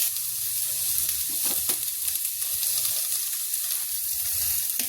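A chili, split down the middle, sizzles and fries in hot oil in a pan while pumpkin curry is cooked: a steady, loud, crackling hiss that continues without a break throughout.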